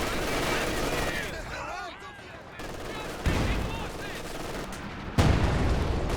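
Gunfire and explosive bursts from a Company of Heroes 2 match, with units barraging a building; dense overlapping shots and booms, with louder blasts partway through and near the end, under a continuous battle din.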